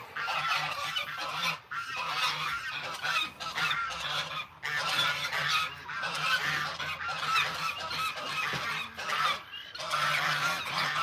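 Geese honking repeatedly at an animal sanctuary, with chickens among them, the loud calls coming in dense overlapping bursts with brief pauses throughout.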